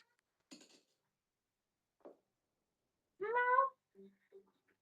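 A cat named Merlin gives one clear, drawn-out meow at close range. Quieter scattered sounds come before and after it, and it is heard alone with no talk.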